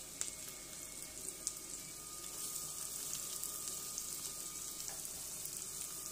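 Chopped onion and garlic frying in a kadhai for paneer bhurji, giving a steady, fairly quiet sizzle with a broad hiss throughout and no talking.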